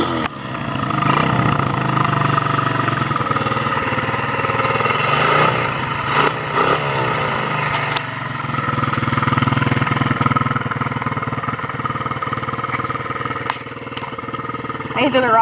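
A Chinese MX-100cc dirt bike with a dirty carburetor idles roughly nearby, its uneven putter continuing under a voice.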